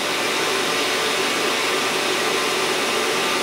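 A Miyano TSV-35E CNC lathe runs its spindle at 1500 RPM with a 5 inches-per-minute feed, giving a steady, loud broadband whir and hiss that holds unchanged throughout with no talking.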